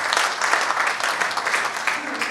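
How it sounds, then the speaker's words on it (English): An audience applauds at a community gathering, dense steady clapping for a couple of seconds with a voice faintly mixed in beneath it. "Clapping ho jaye."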